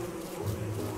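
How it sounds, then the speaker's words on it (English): An angry bee in the video game Don't Starve Together buzzes steadily and faintly, with a continuous droning hum and no other sounds. "Oh, angry bee."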